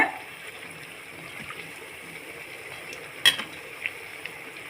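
Urad dal vadas fry in hot oil with a soft, steady sizzle, quiet and even, broken by a sharp clink near the end and a few small taps.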